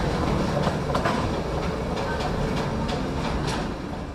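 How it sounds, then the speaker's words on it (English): A tourist train rolls through brine and salt-crystal flats in Qinghai, its steady rumble and rhythmic clickety-clack of wheels on rail joints holding close and loud throughout. "Tourist trains glide through this otherworldly terrain of brine and salt crystals."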